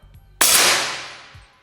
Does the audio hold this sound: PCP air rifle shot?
yes